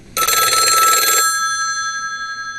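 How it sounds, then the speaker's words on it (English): An old-fashioned telephone bell rings once, a loud metallic burst of rapid clangs lasting about a second, then a ringing tone that fades away in a quiet room. "Or the telephone ringing?"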